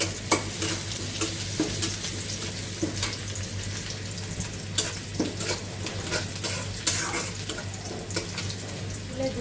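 Onions frying in a pan make a continuous sizzle close by, broken by frequent scraping clicks of a stirring utensil against the metal.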